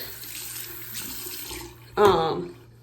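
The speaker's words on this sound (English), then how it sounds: "So I'm just putting a little bit of water on my stomach" Tap water runs steadily, then splashes in a short loud burst as it is put onto a pregnant woman's stomach, no talk over it.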